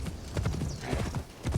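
Horse hooves clip-clop in Assassin's Creed Shadows, a brisk run of close hoof beats with a brief whinny, heard alone at moderate volume.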